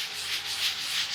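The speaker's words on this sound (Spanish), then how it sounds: "ya que afinamos nuestra pieza de base con la lija" Sandpaper rubbed steadily over a recycled art base piece, giving a loud, close, continuous scratchy rasp with slight rhythmic strokes and no talking.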